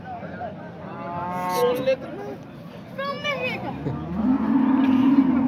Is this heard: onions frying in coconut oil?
no